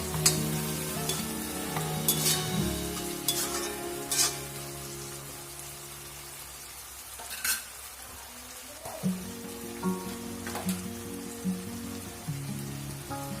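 Sliced potatoes for mutton curry sizzle and crackle in hot oil with steady frying hiss, interrupted by occasional scraping stirs of a spatula in the pan, close and continuous.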